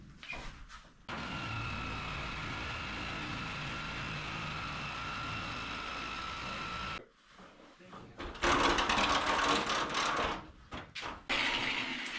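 A Sawzall reciprocating saw cutting through an old truck bed, a steady buzzing drone for several seconds that stops briefly, then resumes in rougher bursts.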